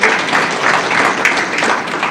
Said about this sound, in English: Now, applause for him, I think,